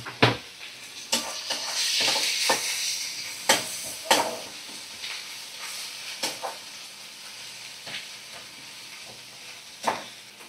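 Masala of chopped green chilli, tomato and ginger-garlic paste fries with a low, steady sizzle, broken by sharp scrapes and knocks of a spoon against the pan at irregular intervals, no voices.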